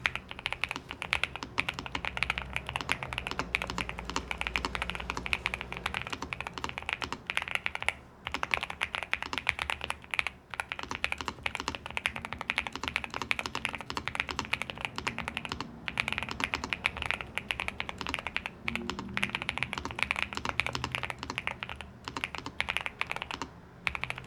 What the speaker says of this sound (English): This has to be one of the best out-of-the-box sounding keyboards that I have ever used.